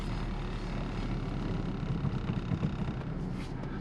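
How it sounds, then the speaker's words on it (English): A Ford Focus drives along just after a clutch repair: a steady low engine and road rumble fills the interior, with wind noise over it and no voices. "Yep, the car is moving."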